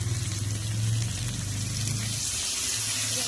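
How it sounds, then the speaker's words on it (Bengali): Water pours into a pan of soybean curry during cooking, a steady close splashing and trickling that stays fairly even for a few seconds with a low gurgling undertone. "এবার এর মধ্যে দিয়ে দিলাম আমি জলটা"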